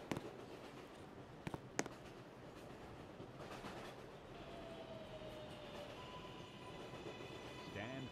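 New York subway 4 train bound for New Lots Avenue, rumbling steadily with a few sharp clacks early on and rising wheel squeal and tonal whine toward the end, alone without voices.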